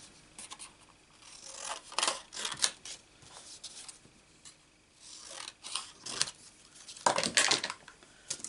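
Scissors cutting out paper pieces for a stamping craft project: irregular snips and papery crunches come in bursts at close range, fairly quiet, with no talking.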